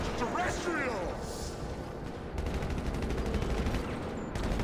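Rapid automatic gunfire in GTA V Online against aliens, a fast steady rattle of shots through the second half over busy game noise.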